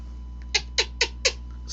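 A cat named Cleo plays with loose yarn indoors, making four short, evenly spaced bursts close to the microphone over a low steady hum, with no talking.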